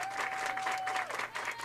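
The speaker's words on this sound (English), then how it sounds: "a good hand clap of praise and applaud for the Illini" A crowd claps steadily in praise of the Illini collegiate bowling team during the finals of the 2013 Lindenwood Lions Classic, a dense, even patter of hands that swells and dips slightly, with no talk over it.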